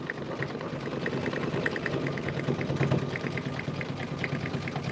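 An embroidery machine stitching out a small tea house design runs steadily and close, a rapid, even mechanical whir and needle patter with regular rhythmic clicks, continuous and alone throughout.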